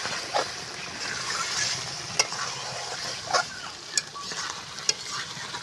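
Goat meat is stir-fried in a pan, village Bengali style, producing a steady close sizzle broken by periodic sharp clanks of a spatula against the pan.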